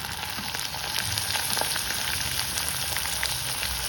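Chopped tomatoes land among browning onions with cumin powder in a hot frying pan, giving a steady, loud, close sizzle and frying hiss with faint stirring throughout, no voices.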